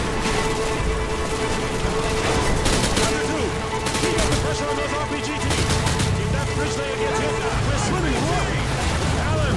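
Dense, continuous gunfire from the video game Call of Duty: Modern Warfare 2, with rapid bursts and heavy shots layered over game effects, loud and unbroken throughout.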